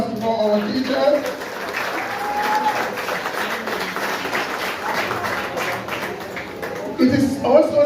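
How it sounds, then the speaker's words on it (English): Sustained applause from an audience honouring the teachers at a school graduation ceremony, steady clapping for about eight seconds with a swell near the end and a few voices mixed in. "So another round of applause for our teachers."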